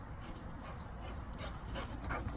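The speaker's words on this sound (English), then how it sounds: "the dog is going crazy. She sees a cat" A dog excited at seeing a cat whimpers and yips in short, faint bursts over low background noise.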